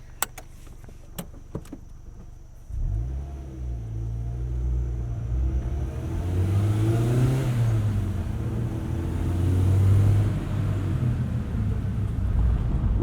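A 2009 Mazda MX-5 Miata NC2 with a five-speed manual gearbox, top down, starts up after a few clicks, then its engine rumbles and pulls away, rising in pitch through a gear as it accelerates, loud and close, with no talking.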